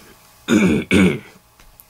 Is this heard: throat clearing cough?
yes